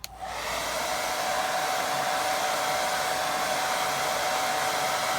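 A hair dryer blows continuously on a watercolour beach painting, switching on with a quick burst and then holding a loud, steady rushing whoosh with a faint high whine throughout.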